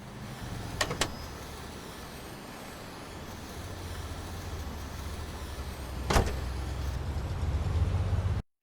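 An old car engine in the video game Mafia: The Old Country gives a steady low rumble throughout, with a couple of sharp clicks early on and another near the middle, and no talking.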